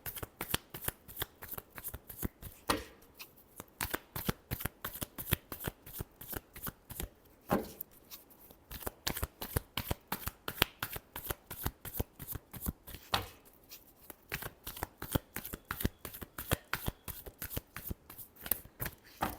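Tarot cards are shuffled in quick, rhythmic bursts of sharp slapping clicks that repeat over a long stretch with short pauses between runs, close and crisp.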